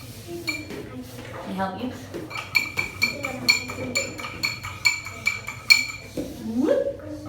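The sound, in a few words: spoon mixing baking soda for volcano science project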